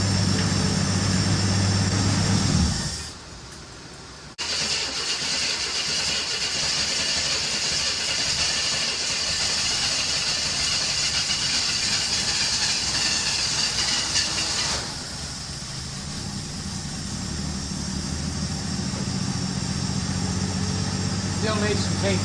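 Engine of a 1965 Chevy Bel Air running steadily, a loud continuous mechanical roar with a brief dip early on and a slight drop in level later, held close throughout.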